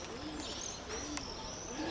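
Soft, repeated cooing of pigeons, faint and somewhat distant, with layered calls rising and falling under a quiet background.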